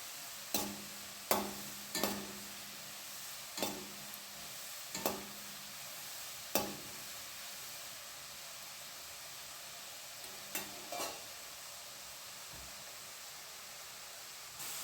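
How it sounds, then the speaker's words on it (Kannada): Jackfruit chips fry in hot oil with a steady, soft sizzling hiss, broken by a series of sharp ladle clacks against the pan as they are stirred now and then. "ಸೌಟ್ ಹಾಕಿ ಮಿಕ್ಸ್ ಮಾಡಿಕೊಳ್ಳಬೇಕು."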